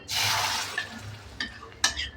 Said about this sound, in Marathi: आता कढई गॅसवर ठेवली आहे, त्याच्यामध्ये आपण पल्प टाकूया।